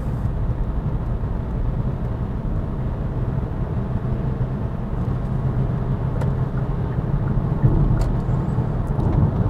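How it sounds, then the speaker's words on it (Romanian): Cabin noise of a Hyundai Kona 1.6 T-GDi with 7-speed dual-clutch and 4WD cruising at 100 km/h in 7th gear: a steady low engine and road drone with tyre rumble, constant and even throughout. "Lăsăm în treapta 7, mergem cu 100 de km pe oră pe"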